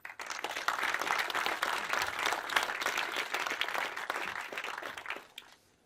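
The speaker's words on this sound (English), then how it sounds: "can I ask for a big round of applause for Simon" An audience at a memorial lecture applauds the speaker, dense steady clapping for about five seconds before it tapers off.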